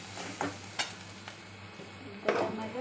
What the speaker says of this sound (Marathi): सगळं चांगलं हलवून घेऊया।